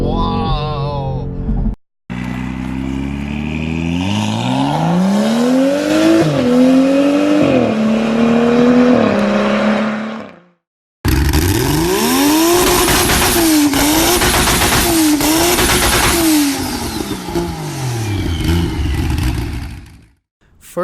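A loud BMW M850i xDrive engine revs hard through rising gear pulls, pitch climbing and dropping with each shift, in two long bursts separated by a short cut.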